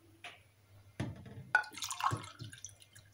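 Water poured in short bursts into msemen dough in a bowl or mixer, giving faint splashy trickles and a couple of soft knocks against a low steady hum.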